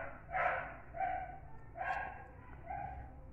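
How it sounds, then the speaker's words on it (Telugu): A pet dog outside a house gives four sharp, fairly close barks spaced about a second apart, with quiet background noise between them. "మా ఇంటి బయట ఒకటి ఉంటుంది పెంపుడు కుక్క"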